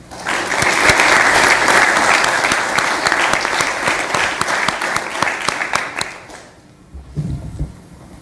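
A county board meeting audience applauds in a loud, steady burst of clapping that fades out around six seconds, leaving a short quiet gap before a few low thumps.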